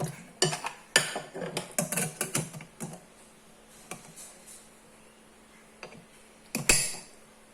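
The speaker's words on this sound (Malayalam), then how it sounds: "കുക്കറിൽ വെള്ളം വെച്ച് ഇത് മുഴുവനെ ഇട്ട്" Whole potatoes and water go into a pressure cooker for a sesame samosa filling: a cluster of clattering metal knocks and clinks early on, then sparse taps and one louder clank near the end.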